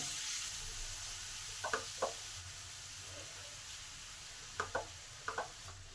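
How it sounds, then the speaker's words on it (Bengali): Washed cabbage added onto spiced potatoes in a pan, a soft steady sizzle with a few distinct thumps and stirring knocks spaced across the clip. "সেই ধোয়া বাঁধাকপিটা আলুর উপরে দিয়ে দিলাম"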